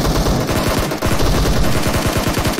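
Rapid automatic gunfire in the mobile battle royale game PUBG Mobile, loud and continuous bursts filling the whole stretch without talk.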